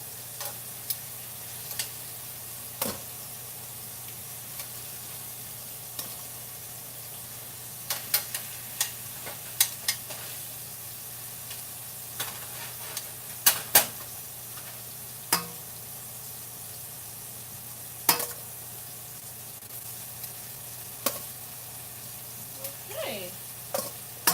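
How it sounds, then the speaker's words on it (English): Thick chicken pieces sizzle and fry in a pan on a stove under a steady range fan hum, with occasional clicks and taps of stirring. "my stove making too much noise with the fan and the sizzling delicious bird meat"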